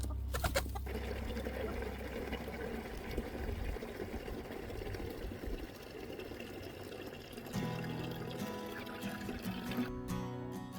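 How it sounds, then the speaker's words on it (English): Chickens cluck around a farmyard on a freezing, windy morning, with steady broadband wind noise and mixed farm sounds running throughout the stretch. "Good morning, big chickens"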